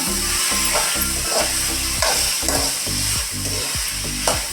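Masala mixture for a dhaba-style paneer gravy stirred in a hot pan, loud sizzling frying broken by repeated scraping strokes of a spoon at a steady rhythm, close up with no voices.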